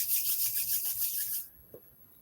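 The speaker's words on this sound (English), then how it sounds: "bring your hands together and rub the palms" Two palms rub briskly together in a steady, close, breathy swishing for about a second and a half, then stop abruptly, leaving near silence broken by one small soft tap.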